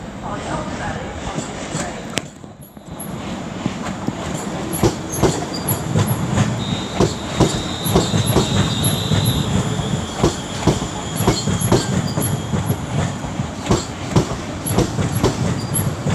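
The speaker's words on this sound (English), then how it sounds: "this is a terminating London Northwestern Railway service from Tring" A London Northwestern Railway terminating service from Tring, a Class 350 unit, pulls into London Euston, its wheels squealing and clattering over rail joints at close range with station ambience and high beeps throughout.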